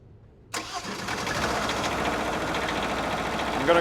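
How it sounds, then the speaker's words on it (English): A Kohler KDW diesel generator engine cranks and catches after a quiet moment, then settles into a steady, close mechanical idle with a knocking rumble. "So we're going to start the generator,"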